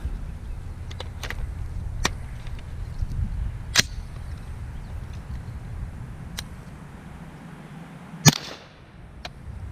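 Suppressed 9mm shots with Magtech 147 grain subsonic ammunition at an outdoor range, a handful of sharp, quiet cracks spaced a few seconds apart over steady background noise.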